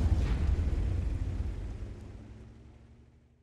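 Artillery shell from a self-propelled gun exploding in World of Tanks, a loud deep boom with rumbling low-end that decays gradually over a few seconds, no talking.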